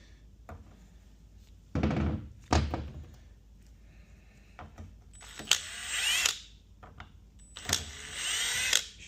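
Impact gun on a 2005 Ford Expedition 5.4L giving short bursts and hard clicks as it spins loose bolts, several separate sharp hits with quiet gaps between, close by in a workshop.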